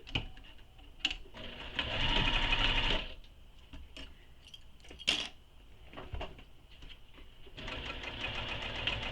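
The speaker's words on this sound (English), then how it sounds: "now I'm going to stitch this in place using the seam allowance given in the pattern" A sewing machine stitches down the strapping of a quiver sling, running in a steady loud burst, pausing with small handling clicks, then starting up again toward the end.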